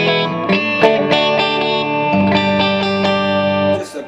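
An Agile electric guitar with a graphite nut and Grover tuners plays a clean tone, with sustained chords and picked notes ringing loud and close, alone without talk.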